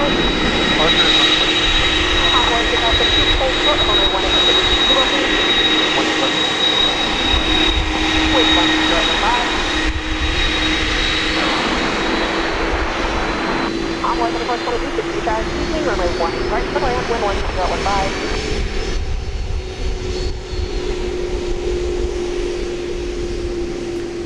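An MD-11 jet passes close at DFW Airport at night, a loud continuous engine roar with a steady high whine that shifts in pitch as it goes by, with voices talking underneath.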